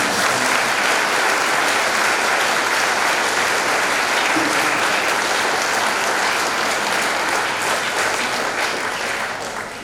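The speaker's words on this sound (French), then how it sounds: "On l'applaudit beaucoup." Applause from a congregation at a Saint Michael Archangel feast day celebration, sustained dense clapping for about ten seconds that fades slightly at the end.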